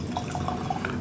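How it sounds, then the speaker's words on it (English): Four Roses 130th Anniversary Limited Edition Small Batch bourbon pours into a glass, a brief, close trickle of liquid with soft bubbling splashes. "Let's pour a little bit."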